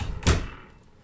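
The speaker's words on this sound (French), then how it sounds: "Je ferme la porte." A door shuts with a single solid thud at close range, its dull boom fading into a quiet room.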